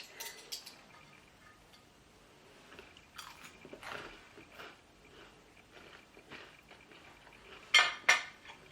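Bread is bitten and chewed close up during a tasting, with soft crunching and munching bites plus a few light clinks of cutlery or dishes, quiet and intermittent, no talking.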